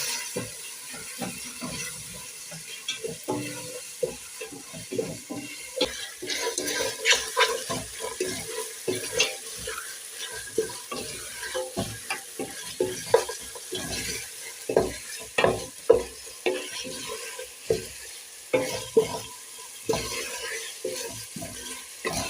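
Already-boiled meat stirred and fried with spices in a pot for potato pilau, giving a steady sizzle with frequent scraping stir strokes at close range and no talk.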